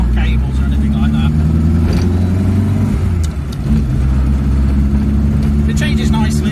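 Reliant Robin car driving along with a steady, loud engine drone and a brief dip in revs around a gear change, under continuous talk from inside the cabin.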